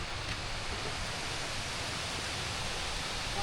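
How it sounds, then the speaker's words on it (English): A waterfall at a swimming hole on Koh Samui in rainy season gives a steady, even rushing roar of falling water that holds at a constant level throughout. "this is the easiest accessible waterfall we've been to so far"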